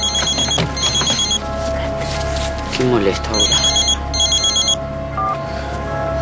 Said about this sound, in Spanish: El teléfono. Sí, teléfono.